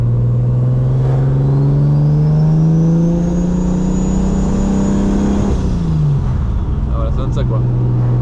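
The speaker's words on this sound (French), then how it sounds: "on entend vraiment la turbine." A BMW E36 325i engine fitted with a Maxpeedingrods turbo, heard up close as a loud, steady engine drone with a rising then falling turbo whine layered on top. Someone talks over it.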